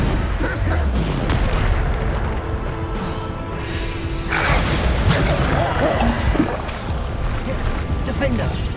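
Bombarder spell explosions from Hogwarts Legacy, a loud, continuous rumble of booms and crashing impacts with a sharp burst midway.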